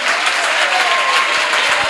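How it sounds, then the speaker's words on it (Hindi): A church congregation claps steadily and loudly at a worship service, a dense continuous wash of hands with no pauses. "और भी अच्छी ताली बजा सकते हैं आप, कम ऑन।"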